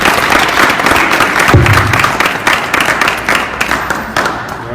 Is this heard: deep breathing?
no